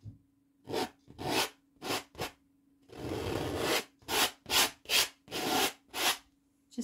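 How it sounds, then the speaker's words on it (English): Oil paint is scraped off a canvas in short, close, dry rasping strokes, about a dozen in an uneven rhythm, with one longer drawn-out scrape partway through and a faint steady hum underneath. "Scrape it off. Take the paint off."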